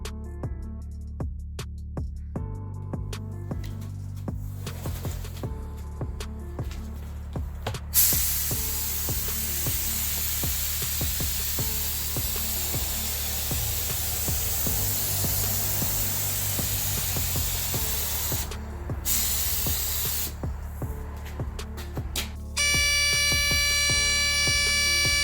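Spray gun applying paint to the shaved headlight trim of a BMW E46 330Ci convertible during bodywork, a steady loud hiss lasting most of the clip, with brief pauses and a compressor-like hum underneath.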